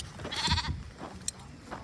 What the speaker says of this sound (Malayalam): ആടുകൾ രാവിലെ മേയാനൊന്നും പോകുന്നില്ല. എല്ലാം വിശ്രമത്തിലാണ്.